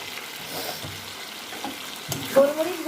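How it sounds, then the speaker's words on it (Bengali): Chicken fries in a pan and is stirred after a dusting of black pepper powder, giving a soft, steady sizzle with occasional scrapes of the spoon and a brief louder clatter near the end. "গোলমরিচ গুঁড়োটা দিয়ে আবারও কিছুক্ষণ নাড়াচাড়া করে দেবো"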